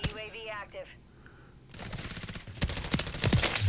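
Rapid automatic fire from an MCW rifle in Call of Duty, over ten rounds a second, builds in the second half as dense bursts after a quieter opening with speech-like tones.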